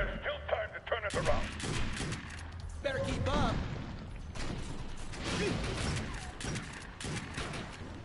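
Gunfire from a Defiance 2050 player-versus-player match crackles in rapid bursts and fusillades, mixed with mechanical weapon clatter and impacts, loud and dense throughout, while a player talks over it.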